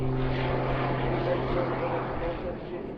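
Jet-converted Pitts aerobatic biplane flying at the Duxford Summer airshow, a steady loud engine roar with a droning hum held throughout, while a commentator talks over it.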